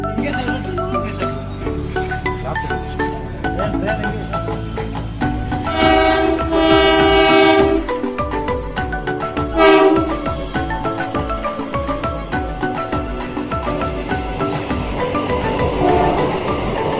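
Train sounds at a railway station in Kerala, with a loud horn blast ringing out in the middle and rolling, clattering rail noise continuing throughout amid busy station ambience.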